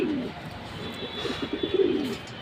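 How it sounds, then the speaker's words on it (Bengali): Silver-pattern fantail (pankhi) pigeons coo softly up close, a run of low, throaty pulses that builds toward the end with no talk over it. "এ হলো আরেক জোড়া পাঙ্খি কবুতর"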